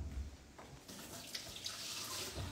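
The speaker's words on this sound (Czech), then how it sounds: "Tak a teď já tam ještě leju vodu" Water pouring from a tap into a cooking pot while a young duck is being cooked: a quiet, steady splashing stream that grows fuller and brighter as it runs, heard alone.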